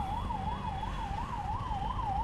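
An ambulance siren wails through traffic on a road in Pune, its regular rising and falling tone repeating steadily over a low rumble of vehicles, moderately loud and unbroken.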